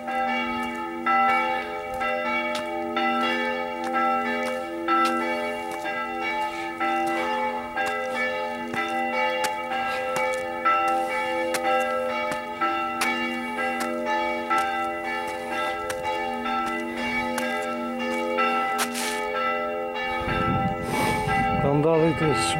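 Church bells in Dąbrowa Górnicza, Poland, ring on and on at Christmastime, their tones overlapping in a sustained, resonant peal heard from nearby, with brief voices and some handling noise toward the end.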